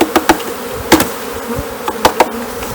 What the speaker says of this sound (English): the other bees that are flying and that are still up here